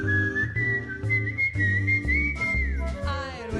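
A whistled little tune carries a steady melody over a jazz quintet's cocktail-style backing, the whistling clear and prominent throughout, ending in a rising slide.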